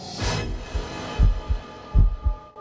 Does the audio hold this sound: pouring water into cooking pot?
no